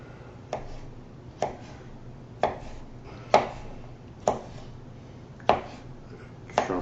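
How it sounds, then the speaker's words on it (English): Tomatoes chopped into pieces with a knife on a cutting board, seven sharp, evenly spaced knocks about one per second, close and clear over a low steady background hum. "Chop her up in some pieces."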